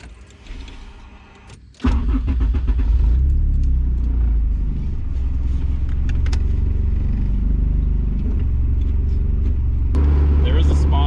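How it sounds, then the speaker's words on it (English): A turbocharged Mazda Miata (KMiata) making around 400 horsepower pulls away on a street lap around a lake, its engine droning steady and loud after a quiet start, with speech over the road noise. "We're gonna go do a little bit of a street lap just to make sure we don't hit overboost"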